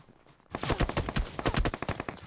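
Rapid gunfire in a Fortnite match, a sudden burst of sharp repeated shots starting after a quiet half second and continuing in quick succession to the end.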